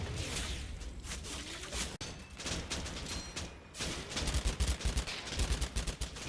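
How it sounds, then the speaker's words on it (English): Gunfire in the World War II video game Combat Mission Fortress Italy: repeated rifle and machine-gun bursts crackle in quick volleys, some near and sharp, others more distant, continuing without pause. "the guns help dislodge the German team in the outbuilding"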